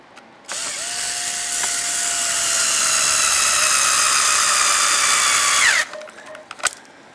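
A power driver running screws down into a frame, one sustained whining run of several seconds that rises slightly, then stops, followed by a few small clicks and knocks.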